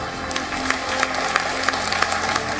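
Applause fills the mission control room at the Chandrayaan-3 launch as the cryo stage cuts off, a dense steady clapping with crowd murmur, some louder claps standing out.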